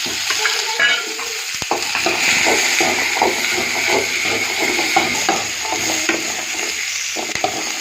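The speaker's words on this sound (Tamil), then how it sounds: "நல்லா வதக்கணும்" Garlic, ginger, curry leaves and tomato sautéing for mutton kuzhambu, a loud close sizzle with repeated stirring scrapes of a spoon against the pan.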